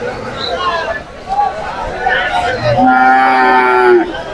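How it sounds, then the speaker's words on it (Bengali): Cattle moo loudly and close at a bull market in Barobazar, Jhenaidah, where a Friesian stands among large bulls. One long drawn-out low follows brief calls, with voices and crowd babble around it. "এখানে আছে আরো একটা ফ্রিজিয়ান গরু"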